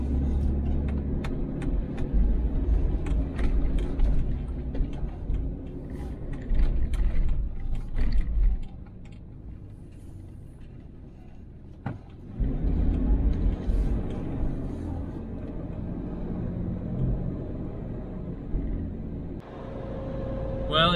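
Toyota Land Cruiser 3FE engine with its EGR and smog equipment removed, droning steadily from inside the cab while driving, rising and easing with throttle, with a brief lull partway and light rattles and clunks over the rumble.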